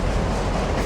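A train climbs the highest mainline railway in Northern Europe, through tunnels and above the tree line in the Nordic mountains, its dense, loud, steady rumble filling the short stretch without any voices.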